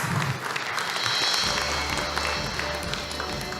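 Conference audience applauding a speaker introduced at an international education conference, a steady wash of clapping from a large hall filling the whole stretch, with faint voices underneath.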